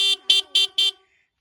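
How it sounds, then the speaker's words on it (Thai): A Mitsubishi GS23 horn honks four times in quick, even succession, loud and close, then falls silent. "เครื่องดีแตรดังนะคะ"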